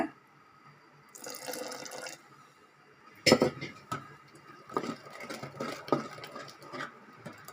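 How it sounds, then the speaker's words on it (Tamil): Water is poured from a spoon into paniyaram batter in a kitchen, with soft splashes and drips mixed with light clinks of utensils against a bowl, heard up close and fairly quiet. "இதில் ஒரு ரெண்டு ஸ்பூன் தண்ணி விட்டுக்கலாங்க"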